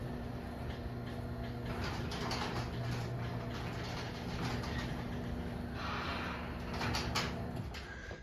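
A Chamberlain C2102 or LiftMaster 8355 garage door opener runs the door, a steady motor hum with rattling and clattering from the moving door for about eight seconds, stopping near the end.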